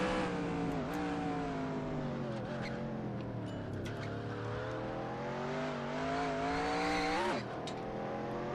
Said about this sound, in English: Spun the tires a little bit.